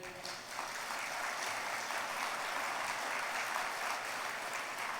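A church congregation claps together in a steady, dense burst of applause that carries at an even level throughout.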